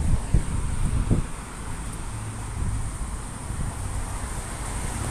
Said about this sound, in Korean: 비는 안 오는데 바람이 많이 불어